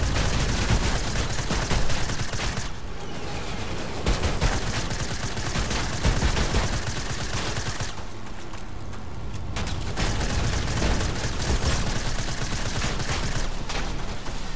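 Sustained gunfire rattles through a Fortnite match, with dense volleys and rapid automatic bursts that run almost without pause, loud and close, and only a few brief lulls.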